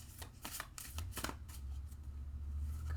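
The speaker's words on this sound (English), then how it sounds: "Do 2 more shuffles, and we're going to cut" Tarot cards being shuffled by hand, a quick run of crisp riffling flutters in short bursts over a low background hum, close and fairly quiet with no talking.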